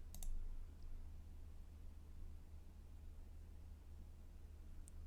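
Two faint mouse clicks on a computer, one near the start and one near the end, over a steady low hum and hiss in a quiet room.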